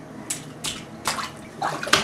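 A young child splashing water in a bathtub, with four or five separate splashes coming in uneven bursts, close and moderately loud, set against a quiet room.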